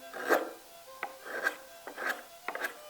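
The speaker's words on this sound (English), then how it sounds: "That right there can be pared off in a moment" A chisel pares wood in a carpenter's workshop, giving about five short, dry rasping strokes at an uneven pace, close and fairly quiet, with no one talking.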